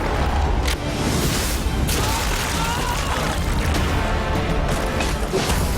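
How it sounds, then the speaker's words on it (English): Light Bomb explosion in the video game Nosgoth, a dense blast of booming crashes and rumbling debris amid busy game noise, with voices talking over it. "Its explosion triggers a powerful blast of light that wounds vampires instead of blinding them."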